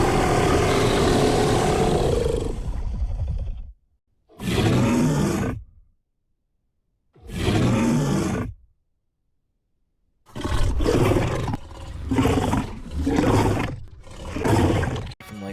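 Deep dinosaur roars and calls from the video game The Isle: one long bellow, then two separate roars after pauses, followed by a quick run of shorter roaring bursts.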